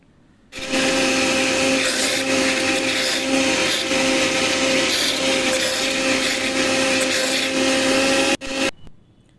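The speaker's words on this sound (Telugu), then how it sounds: "ఈ విధంగా మీరు బ్లెండర్లో వేసి బ్లెండ్ చేసుకోండి" A blender whirs loudly and steadily for about eight seconds as papaya juice is blended, a sustained motor drone that starts abruptly and cuts off near the end with a brief rattle.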